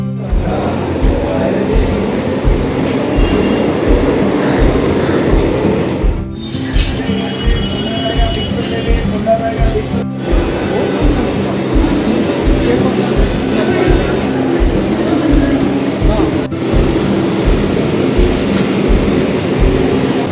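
A Mumbai local train sits at the station, its low rhythmic rumble and mechanical hum running steadily throughout, with a couple of sharp clanks and background voices mixed in.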